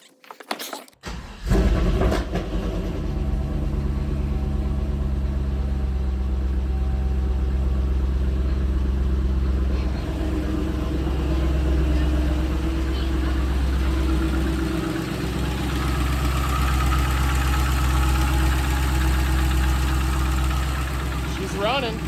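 A 2004 Cadillac CTS-V V8 with freshly swapped cams starts and settles into a steady, loud, lumpy idle that runs continuously up close, with no talking over it.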